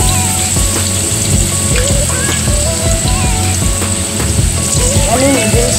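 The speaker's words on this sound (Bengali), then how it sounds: "তেলটা গরম হয়ে গেছে, আমি দিয়ে দেবো কেটে রাখা আলু।" Cut potatoes dropped into hot white oil in a kadai for homemade noodles, giving a loud, steady, close sizzle like heavy rain that runs throughout with small crackles, and faint voices underneath.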